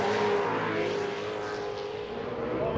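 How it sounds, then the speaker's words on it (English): A TORC Pro 2 off-road race truck engine at Primm holds a high, steady roar on its rev limiter, buzzing continuously at a distance over a broad noisy background. "you hear that truck on the rev limit over there"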